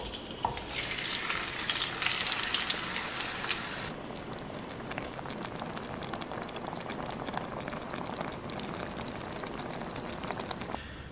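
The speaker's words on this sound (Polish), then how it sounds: "pomidory z cebulą oraz czosnkiem musimy teraz podsmażyć na bardzo rozgrzanym oleju tłuszczu przez około 4 do 5 minut" Tomatoes with onion and garlic fry in very hot oil over a strong burner for fresh tomato soup, a loud, dense, rain-like sizzle that runs continuously, brighter and more intense for the first few seconds.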